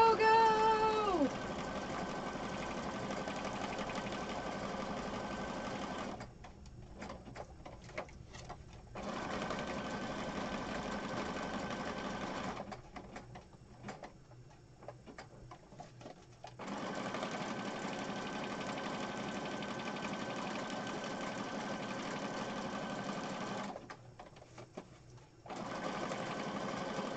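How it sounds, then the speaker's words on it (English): A sewing machine stitching fabric for a craft project runs in steady fast bursts, stopping briefly several times between runs, with no talk over it. "I'm just going to stitch this really fast."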